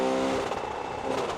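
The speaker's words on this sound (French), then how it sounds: "Oh, la Ferrari arrive!" A Ferrari Purosangue SUV accelerates hard during a drag race against a BMW X5 M, its engine a loud, steady roar that holds throughout with a slight waver, no talk over it.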